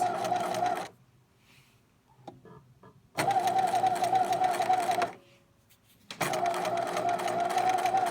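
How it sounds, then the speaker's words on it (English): A sewing machine stitching a zig zag open seam in fabric, running in three loud, close bursts of steady whirring, separated by quiet pauses with faint handling noises. "I'm going to start sewing from one end to the other, and I'm going to back stitch at both ends."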